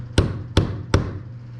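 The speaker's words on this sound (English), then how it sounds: "I'm going to nail it down just like that, okay?" Three sharp hammer strikes drive a nail into scrap wood while a motor mount is being secured, evenly spaced about a third of a second apart, close and loud with short ringing decay and no talking.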